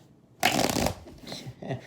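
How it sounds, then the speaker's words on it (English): A deck of tarot cards is shuffled once up close in a quiet room, giving a crisp half-second riffle. Two softer, shorter card shuffles follow. "All right, 2 more shuffles."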